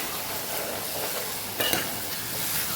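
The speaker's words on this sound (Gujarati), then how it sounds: "મિક્સ કરી અને સાતળી લેવાનું છે શાકને આપણે મસાલા સાથે" Vegetables with spices, coriander and a little sugar sauté in a pan for a Gujarati thali, a steady soft sizzle with a brief clink of a stirring utensil midway.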